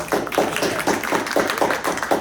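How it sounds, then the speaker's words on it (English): Audience clapping at a live spoken word reading night in a gallery, a short burst of steady, fairly close applause from a small crowd. "Let's have another round of applause for ORTET, KYLE QUASS, Tony Burroughs"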